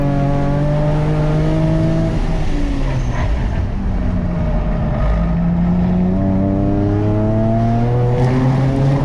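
Nissan 370Z NISMO race car on track at Sonoma, its engine loud and close, climbing and dropping in pitch through revs and gear changes in one continuous roar.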